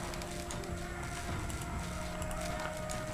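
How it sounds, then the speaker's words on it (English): Massed horse hooves thunder and clatter steadily in a real-time strategy war game, a dense, loud, continuous rumble of galloping cavalry mixed with battle noise. "Pesky horses, pesky horses."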